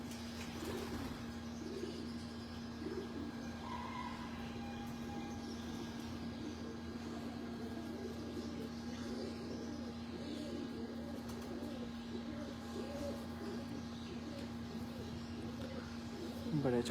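Pigeons coo on a Lahore rooftop in low, soft rolling calls that repeat throughout, faint beneath a steady hum and background noise, with people talking nearby.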